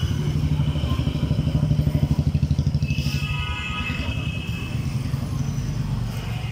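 Motorcycles and traffic move along Main Bazar street in Delhi on an evening walk. A nearby motorcycle engine throbs loudly and passes close, leaving a busy background of street noise and clatter.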